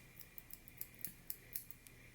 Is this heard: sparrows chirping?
no